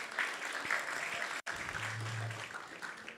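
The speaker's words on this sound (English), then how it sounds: "Please give him a round of applause also" Temple congregation at a Narasimha Chaturdashi gathering applauding, a steady wash of many hands clapping at a distance, briefly cut by a gap midway, with a low hum underneath.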